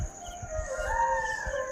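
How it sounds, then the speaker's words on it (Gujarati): Peacocks call in the morning with a drawn-out, rising, tonal cry, moderately distant, over low soft thumps in the background. "મોરલા બોલે હોય"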